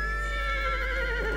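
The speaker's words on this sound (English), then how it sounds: "Where the fuck was that horse?" Horse neighing in the strategy game Thrones of Britannia, a single drawn-out whinny with wavering pitch lasting over a second, clear and prominent over a low steady hum.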